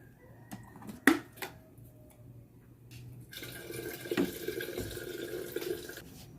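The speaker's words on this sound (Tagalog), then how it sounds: "pakulo na tayo ng tubig" Tap water runs into a kettle or pot to be boiled, a steady hissing splash starting partway through after a few knocks and clatters, close and fairly quiet.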